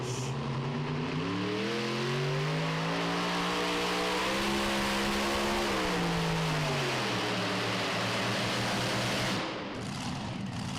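Super modified pulling tractor at a Goshen pull, its engine roaring loud and close under heavy load, the pitch rising then sagging sharply as the RPM drops, before the sound cuts away near the end.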